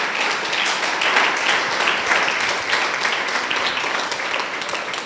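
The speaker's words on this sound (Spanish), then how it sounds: "lo que yo quería, darle un aplauso al Señor" A church congregation applauds the Lord, a thick, steady wash of many hands clapping at full volume from start to finish.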